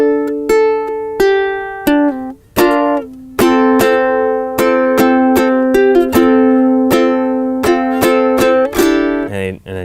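Solo ukulele plays a chord-melody arrangement of a song, with clearly plucked notes and strummed chords ringing out one after another in a slow, even line, close and fairly loud with no talking over it.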